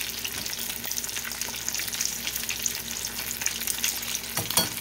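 Fish fries in hot oil with a dense, continuous crackling sizzle, sharp pops scattered throughout and a louder spatter near the end, close and alone.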